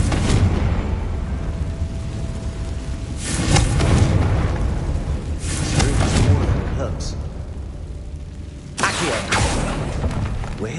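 Confringo spell blasts in the Hogwarts Legacy video game land as several booming explosive bursts spaced a few seconds apart, each a loud broadband thump with a rumbling tail, mixed in with the game's background sound.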